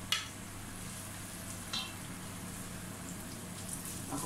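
Garlic and ginger sauté together in a pan, a quiet, steady sizzle and hiss with a couple of light clinks from stirring.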